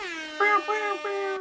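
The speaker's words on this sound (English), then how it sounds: "It'll be air horn sound effects, like in a rap video going off right now." A comedic air horn sound effect blasts in three bright, blaring honks, the first a short toot and then repeated loud pulses, alone without speech.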